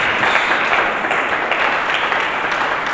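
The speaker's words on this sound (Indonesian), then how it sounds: "Berikan tepuk tangan bagi Yesus Kristus." A church congregation applauds for Jesus Christ during a sermon: dense, steady clapping from many hands fills the space, loud and close, without a break for the whole stretch.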